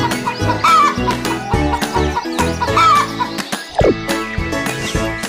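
A hen clucks several times in short bursts over a steady backing of music, loud and close, among a run of farm animal sounds.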